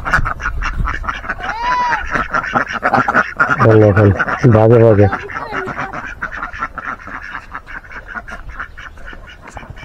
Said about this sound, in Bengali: দেখেন ভাগে ভাগে এখানে হাঁস পালন করতেছে, দেখছেন কি সিস্টেম করছে হাঁস পালন।